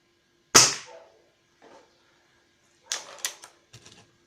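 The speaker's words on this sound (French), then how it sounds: "Et les 2 derniers coups" Air rifle shots from a Gamo Black Shadow: one sharp, loud crack followed by a faint click, then a cluster of two quick snaps and a few lighter clicks, with no talk.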